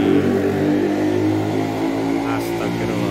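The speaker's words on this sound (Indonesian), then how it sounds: "nggak kira-kira knalpot." Vehicle with a loud exhaust revs on a street in Dabo Singkep, a sustained, droning engine note with strong low tones that stays close and loud, fading slightly as it goes.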